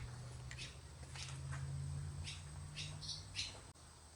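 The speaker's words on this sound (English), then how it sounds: "There's birds in here." Faint, scattered bird chirps and tweets inside an abandoned antique mall, over a low steady hum, with a soft click near the end.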